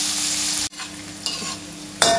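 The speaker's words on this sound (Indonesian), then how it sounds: "Beras bertih dia ya. Kita goreng dia." Puffed rice (beras bertih) fries in a pan with a bright sizzle while a utensil stirs and scrapes it, the frying pausing for a moment before sizzling on.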